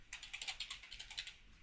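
Fast, clicky keystrokes rattle on a cheap computer keyboard in a quick burst of evenly spaced taps, close and fairly quiet, with no talking.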